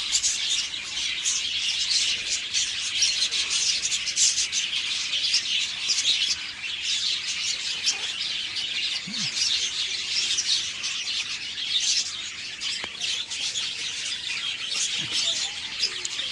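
Seven budgerigar chicks in a clay nest pot keep up a dense, continuous high-pitched chirping and peeping, steady and close throughout.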